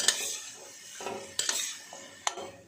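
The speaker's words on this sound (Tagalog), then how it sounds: "Haluin lang natin." Pechay stems stirred in a pan with a metal utensil, several sharp clinks and scrapes against the pan over a faint sizzle.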